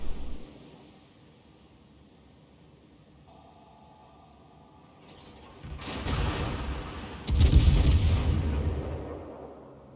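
Japanese high-explosive shells fire and strike in World of Warships, with two heavy, rumbling bursts arriving a second or so apart after a quiet stretch of low background hum, the second louder and longer.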